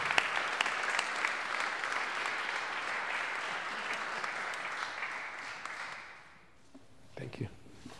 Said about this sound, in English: Give a round of applause for Mr. Tom Tipton